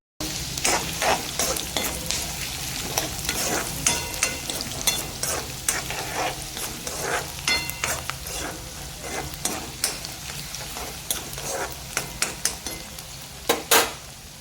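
Chopped onion fries and sizzles in oil for poha while a utensil stirs and scrapes the pan, with soft clinks of metal cookware; a fairly quiet, continuous sizzle broken by frequent stirring strokes and no talking.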